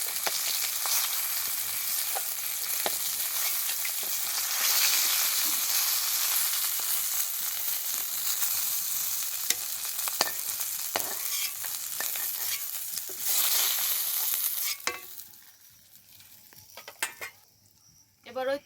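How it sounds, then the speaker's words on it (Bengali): Dried red chilies and black cumin seeds frying in hot oil left from fried fish, a loud steady sizzle with stirring scrapes that fades sharply near the end, leaving faint clinks. "এবার ওই তেলের ওপরে দিয়ে দেবো ফোড়ন, ফোড়নে দেবো শুকনো লঙ্কা আর কালো জিরে"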